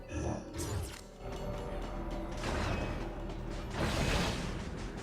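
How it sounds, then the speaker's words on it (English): A large diagonal freight elevator moving in the Metroid: Other M video game, with mechanical grinding, creaks and whooshing swells that rise and fall over several seconds, fairly faint overall. "Are there places in the world that actually use these big diagonal freight elevators?"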